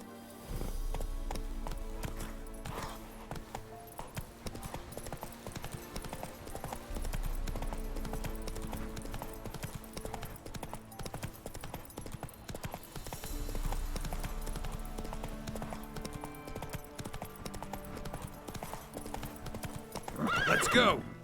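Roach the horse gallops in The Witcher 3 video game, a steady clip-clop of hooves running on through the whole stretch with occasional neighs and whinnies over game music, loud and close.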